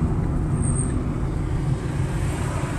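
A car drives close behind on a road during a long drive from Brasília to Bahia, heard as a steady, loud broadband engine and tire rumble from inside a vehicle, with no voices.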